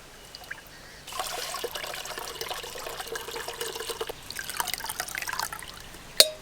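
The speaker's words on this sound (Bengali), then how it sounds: "ডাবের জলটাও ছেঁকে নেব" Coconut water being strained, a steady trickling pour of liquid that starts abruptly and runs for several seconds before stopping, with a brief sharp clink at the end.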